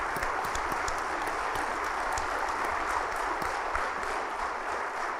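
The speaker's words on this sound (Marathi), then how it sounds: "त्यांच्यासाठी पुन्हा एकदा जोरात टाळ्या झाल्या पाहिजे." A seated audience at a business conference event applauds steadily with dense, sustained clapping that fills the hall without any talking.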